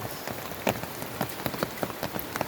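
Steady rain patters on a village wetland during a downpour, a dense even hiss with scattered sharper drop taps close by, and no voices.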